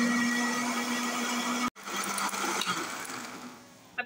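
Electric blender briefly grinding falsa berries with water for chutney, a steady whirring hum that cuts off partway through, then restarts and winds down, heard alone and close.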